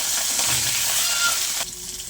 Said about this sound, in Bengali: তেলটা আমার গরম হয়ে গেছে। এবারে চিংড়ি মাছটা ভেজে নেব।